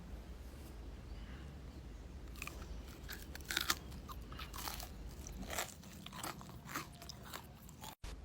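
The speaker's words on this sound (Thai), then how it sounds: "นี่ค่ะ เรามาฟังเสียงกรอบกันค่ะ แห้งๆ นะคะ ไม่อมน้ำมันเยิ้มค่ะ" Crunchy Thai fried banana fritters in batter being bitten and chewed up close, giving a run of dry, crisp crackling crunches that grow denser and louder partway through, with no talking.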